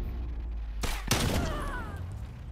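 A shotgun blast from the Marshall in the video game Standoff 2 goes off loud and close, a sharp burst followed by a short rattling decay over steady game background noise.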